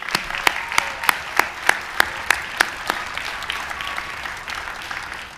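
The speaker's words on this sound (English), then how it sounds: "Let's give them all one big round of applause." A graduation ceremony audience applauds for alumni association honorees: a steady wash of crowd clapping topped by sharp, evenly spaced loud claps, with the crowd's applause thinning toward the end.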